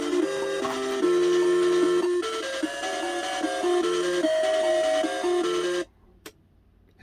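Pitfall II game music from a modded Atari console, a harsh, buzzy chiptune melody with scratchy distorted tones playing loudly and continuously before cutting out to near silence.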